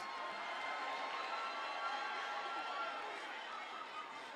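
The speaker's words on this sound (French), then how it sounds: "On applaudit encore une fois." Large audience at the Miss Togo 2024 beauty pageant in the Palais des Congrès applauding, a dense steady wash of clapping and crowd noise holding at even loudness throughout.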